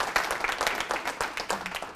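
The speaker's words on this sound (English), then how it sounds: "I think we should give them a round of applause." An audience bursts into applause during a crisis simulation workshop, a dense, steady patter of many hands clapping close by for a couple of seconds.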